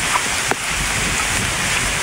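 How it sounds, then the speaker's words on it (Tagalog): Steady rain falls during a flood, a dense continuous hiss with a faint drop or tap standing out briefly, with no voices over it. "Kaso hindi ko parang nahina ata ang ulan."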